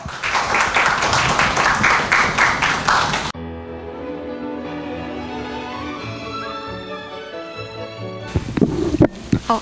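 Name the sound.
audience applause welcoming presenters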